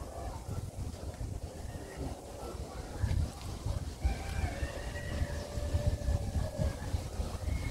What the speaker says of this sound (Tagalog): Malakas na ang hangin.